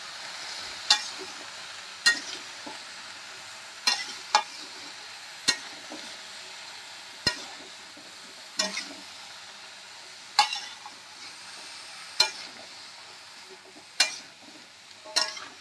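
A mixture of fish roe and fish heads with turmeric being stirred in a frying pan over a gas flame: a faint background sizzle broken by sharp spoon scrapes against the pan roughly every one to two seconds.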